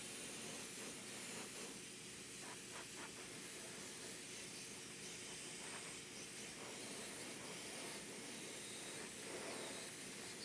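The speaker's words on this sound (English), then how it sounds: "I'm not worried about messing with the paint because I'm still spraying" Steady spray-paint hiss from a can or airbrush coating a quarter-scale custom Hellboy statue, a continuous airy rush that runs unbroken for the whole stretch with no voices.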